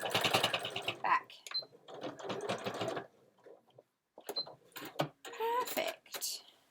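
A sewing machine stitches an ironing board cover in several rapid bursts of mechanical chatter, separated by pauses and short metallic clicks, with a voice talking quietly between the runs.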